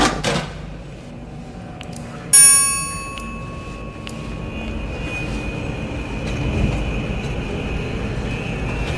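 A bell rings out in the horror video game Bendy and the Dark Revival, a bright metallic strike with long ringing overtones that fade slowly over a steady low background rumble.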